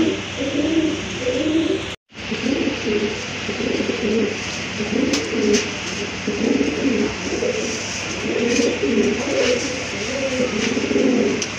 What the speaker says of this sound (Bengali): এটা হচ্ছে আপনার সুপার মিলি কবুতর